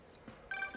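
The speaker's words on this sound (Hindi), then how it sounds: "ये किसी का फ़ोन आ गया।" A phone rings in Marvel's Spider-Man Remastered, a steady electronic tone starting partway through, fairly faint and alone against quiet game ambience.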